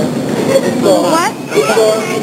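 Subway train riding along, a steady low rumble and rolling rattle with metallic squeals sweeping upward, people talking over the noise throughout.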